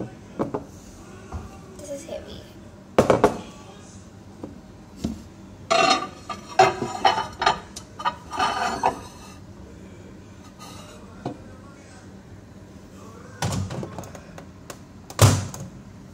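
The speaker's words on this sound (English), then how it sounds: "Let's put them inside the oven. Yeah, so here's the oven. Let's open it." Home oven being opened and a tray of potato chips slid inside, a few sharp metallic clanks and scrapes from the door and tray scattered among quieter kitchen handling noises, close and moderately loud.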